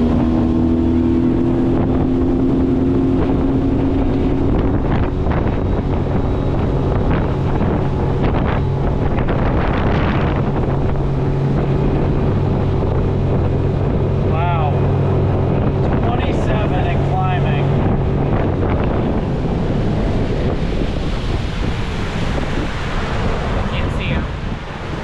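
A small Yamaha outboard engine on a Gheenoe boat runs hard at full throttle throughout, droning loudly under heavy wind buffeting and splashing water.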